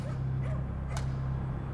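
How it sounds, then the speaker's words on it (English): A stray dog barks a few times at night in a quiet 17th-century London street, short yips heard over a low steady hum. "apart from the occasional bark of a stray dog"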